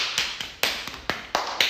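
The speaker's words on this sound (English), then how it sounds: "Give her a hand clap." Several sharp hand claps spaced irregularly, fairly close and moderately loud, with no talking in between.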